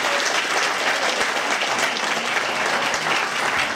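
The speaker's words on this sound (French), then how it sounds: "je voudrais vous demander d'applaudir toute l'équipe d'Eden District Blues qui est avec moi" Steady applause from a concert audience at a blues festival, applauding the organizing team, fills the clip with dense clapping at an even level, with no voices standing out.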